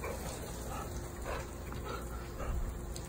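A family protection dog whimpers and yips in short bursts by a pool over a constant, noisy outdoor background, with no clear barking.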